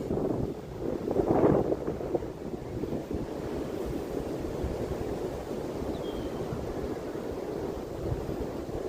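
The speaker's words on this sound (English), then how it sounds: "So windy." Strong wind buffets the microphone by a river with a constant low roar and rumble, gusting harder near the start, with no voices.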